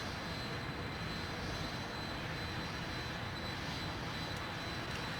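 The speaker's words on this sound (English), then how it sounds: "let's run this up the coast. See how fast we can go in an Alpha Jet." A Dassault Dornier Alpha Jet in a Microsoft flight simulator holds a steady, faint jet engine roar with a thin high whine, droning evenly throughout without speech.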